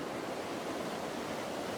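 Rushing water pours in a torrent during a storm, a loud, steady broadband roar with no breaks, close by and unaccompanied by voices.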